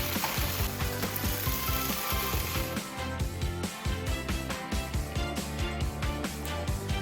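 Turkey bacon frying in a pan gives a loud, steady crackle and sizzle throughout, with busy popping but no voices.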